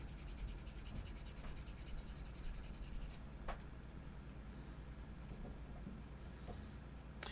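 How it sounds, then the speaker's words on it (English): Sandpaper held at an angle rubs a plastic model kit part in quick, steady strokes, a soft close scratching that runs continuously and fairly quietly with no one speaking. "I'm holding the sandpaper kind of at an angle like this"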